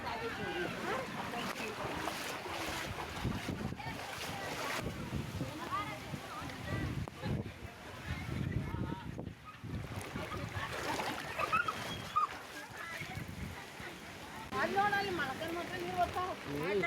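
Floodwater rushes after heavy rain in Bagalkote district, Karnataka, as a steady broadband roar, like surf, running through the whole stretch while people talk over it.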